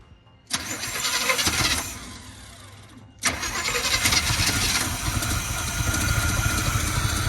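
A 1972 402 big-block Chevrolet V8 cranks and catches twice, roaring to life loud and close, then settles into a steady, rumbling idle.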